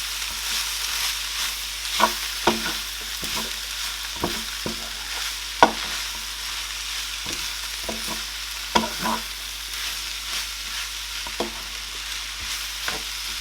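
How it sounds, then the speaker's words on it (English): Yam porridge being stirred in a pot with a spoon, a steady sizzling bubble beneath scattered sharp scrapes and knocks of the utensil against the pot. "So I'm going to mix that up."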